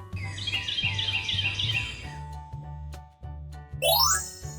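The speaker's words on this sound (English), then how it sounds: "Thrush." A thrush sings a rapid, busy run of high warbling phrases for about two seconds, then falls quiet over a steady low musical backing, followed by a short bright chime.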